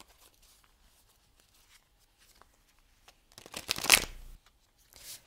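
A deck of tarot cards is shuffled in a brief riffling burst after near silence, followed by a second shorter shuffle, close and fairly quiet.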